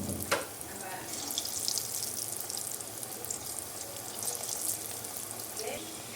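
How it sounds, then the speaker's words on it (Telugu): Amaranth leaf liver fry pieces deep frying in hot oil, a continuous close hiss and crackle of bubbling oil with a sharp pop near the start. "చూడండి, ఈ విధంగా గోల్డెన్ బ్రౌన్ కలర్ వచ్చే వరకు ఫ్రై చేసుకోవాలన్నమాట."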